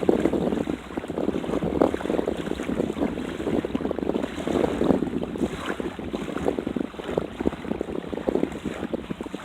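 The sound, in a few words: ocean water washing on the beach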